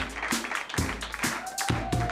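Comedy club audience at Brighton Komedia clapping along in unison, a steady rhythm of loud group claps about twice a second, with a faint tone held underneath.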